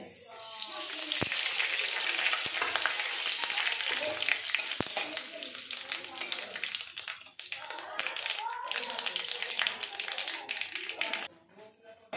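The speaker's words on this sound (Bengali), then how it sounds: "তেলটা গরম হয়ে গেছে, এখন ফোড়নে দিয়ে দেবো একটা তেজপাতা, শুকনো লঙ্কা, পাঁচফোড়ন আর একটু সর্ষে" Bay leaf, dried chilli, panch phoron and mustard seeds sizzle loudly in hot oil, a dense crackling hiss with sharp pops and spits, fading slightly near the end; a voice is faintly audible underneath.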